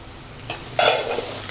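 Vegetables sautéing in a pan for an egg and cheese casserole: a brief stirring scrape followed by a louder burst of close sizzling that carries on steadily to the end.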